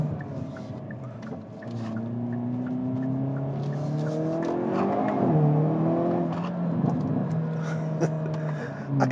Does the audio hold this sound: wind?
no